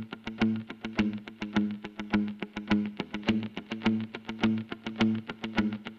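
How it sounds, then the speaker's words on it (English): Distorted electric guitar strums in a steady rhythm, thick and crunchy with a touch of room reverb, playing alone without any voices. "Distortion and then reverb."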